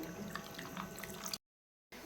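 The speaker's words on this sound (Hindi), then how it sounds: "अब जो फ्राई पैन में पानी था, इसका शीरा था, वो भी हम इसी में ऐड कर देंगे।" Sugar syrup from a frying pan being poured into rasmalai, a soft liquid trickle and drip that runs for over a second, stops, then resumes after a short silent gap.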